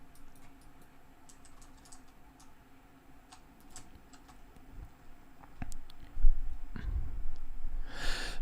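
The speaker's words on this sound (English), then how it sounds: "Mel, I don't know if you're in the middle of typing" Computer keyboard typing during a livestream chat, soft scattered keystrokes at a steady low level, with a louder burst of clicking near the end.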